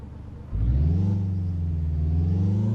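A Peterbilt 351 truck's engine in Euro Truck Simulator 2 cranks and catches after a brief quiet moment, then settles into a deep, steady, close diesel rumble.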